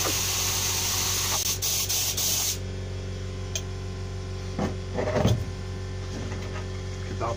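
A paint spray gun blows clean thinners through during cleaning after spraying wardrobe back panels: a loud steady hiss of compressed air for about two and a half seconds, then it cuts off, leaving a low hum and small handling noises.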